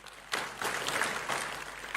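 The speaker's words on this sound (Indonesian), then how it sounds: "tepuk tangan dong." A church congregation in Bandung claps together in worship, a fairly quiet, steady wash of hand claps that swells in waves for about two seconds with no voice over it.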